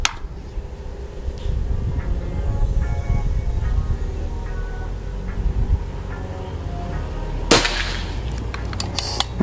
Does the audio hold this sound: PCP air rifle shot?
yes